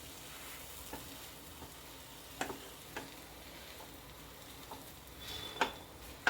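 Spices are stirred into a pinwheel sandwich filling with soft, close scraping and a handful of light taps and clicks over a quiet background, with no speech.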